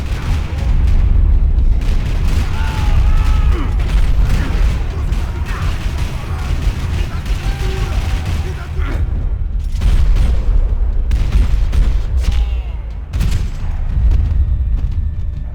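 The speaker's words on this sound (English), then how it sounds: "Another parking lot rattling with gunfire." Dense, loud gunfire and booming blasts rattle through a parking lot in the video game Max Payne 3, a continuous barrage with brief gaps, faint voices mixed in.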